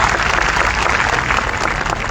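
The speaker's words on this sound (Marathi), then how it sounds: "एकदा जोरदार टाळ्या होऊन त्यांचं अभिनंदन करा" Loud, sustained applause from a crowd at a political rally in Parbhani, steady dense clapping filling the whole stretch without a break.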